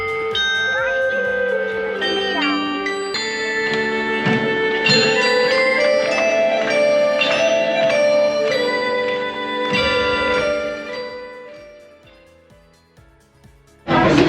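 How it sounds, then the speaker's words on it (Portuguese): A large carillon in a park plays a continuous, ringing melody of overlapping bell tones with long sustains, loud and close, before fading near the end as a sharp sound cuts in. "Aqui, o Grande Carrilhão. Uma performance musical insólita que não deixou de nos impressionar."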